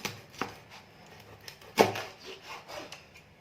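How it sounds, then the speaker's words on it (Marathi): A knife chopping through a pala sea fish in crosswise cuts, a few firm thuds on a board, one loud sharp chop midway, close up and without speech. "आता मच्छी कापतानाही अशी उलट सुलट कापायची आहे"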